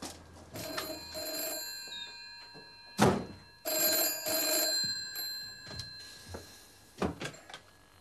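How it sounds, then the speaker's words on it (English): Old landline telephone bell ringing in a house, in bursts with pauses, with thuds and door-like knocks between rings, fairly close and loud. "None of Bertram's friends or neighbours remembers ringing him that afternoon"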